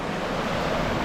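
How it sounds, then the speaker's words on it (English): Surf at Flamenco Beach in Puerto Rico makes a continuous, even wash of breaking waves with some wind rumble and no voices. "the beautiful, legendary Flamenco Beach"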